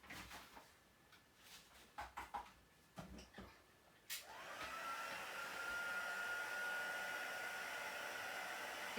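A few light knocks and taps come first, then a heat gun switches on and blows a steady, loud airy whoosh for the remaining seconds while embossing a stamped image for a Stampin' Up! card project.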